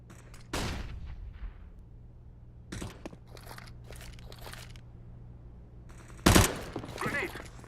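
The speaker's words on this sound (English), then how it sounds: "Flashbang." A flashbang grenade in CS:GO going off in a sharp, loud, close burst, among several other cracking impacts and bursts of gunfire spread across the moment, with faint room tone between.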